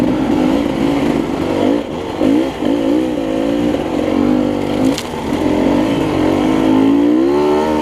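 A motorcycle rider works through a sandy course, the engine droning and revving close by with rising and falling pitch over nearly eight seconds.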